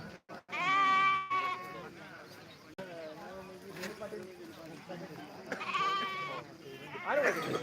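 A flock of sheep bleats repeatedly at the Balumama temple in Belmachi, several loud calls overlapping near the microphone, with a murmur of people talking in the background.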